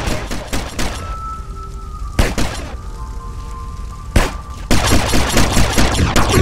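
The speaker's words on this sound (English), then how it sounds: "we gotta use that submachine gun" Submachine gun fire in GTA San Andreas, loud rapid bursts rattling in several runs with short gaps between, a long sustained volley closing it out, no talking.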